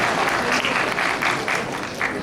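An audience at an Ojas Aahaar health camp in Jaipur claps in steady, dense applause that fills the room evenly, with no one speaking over it.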